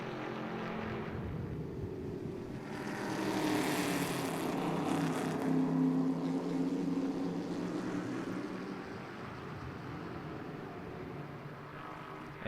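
A Stock Classics race car engine accelerates at the Brasília circuit, a broad roaring drone that swells in the middle and then recedes, heard without voices.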